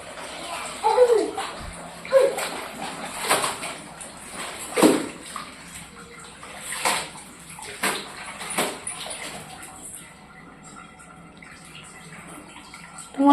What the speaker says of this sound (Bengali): ওই দেখো দেখো কাপড় ধুচ্ছে